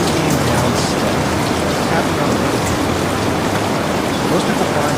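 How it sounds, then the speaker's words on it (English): Steady rain pours down on a rainy night, a dense, unbroken hiss of drops that stays loud and even throughout with no change in intensity and no voices. "The rain came down steadily."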